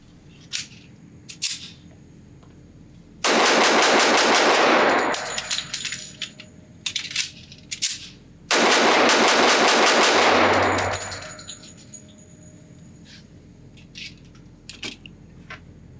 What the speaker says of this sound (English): So let's see how fast I can shoot this, see how fast I can reload it